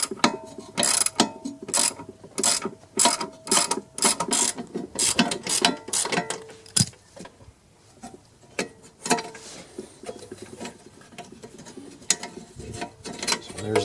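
Ratchet wrench loosening the belt keeper bolt on a Honda lawn mower, close and loud rapid clicking in quick bursts of strokes, with brief pauses between runs and slower, sparser clicks toward the end.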